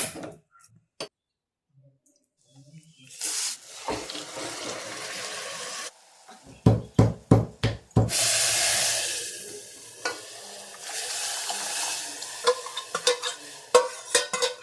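A home cook in a village kitchen fries a tempering for a meal: scattered clinks and stirring, then a bright burst of sizzling from the pan, followed by more stirring and utensil taps at close range.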